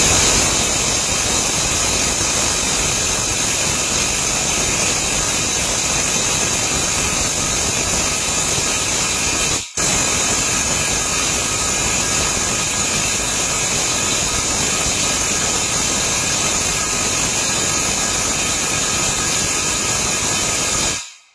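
A Makita impact wrench runs flat out in reverse to loosen: a loud, continuous high-pitched whirring roar holds steady for about twenty seconds, close by, broken by one brief dip before it winds down, with no talking.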